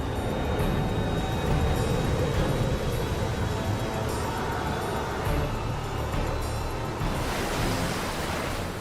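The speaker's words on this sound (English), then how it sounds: "Wild water rages down the mountainsides and roars into the valleys." Flood water roars down mountainsides into valleys along the Danube in Europe, a dense, continuous broadband rushing that stays loud and steady throughout with no voices.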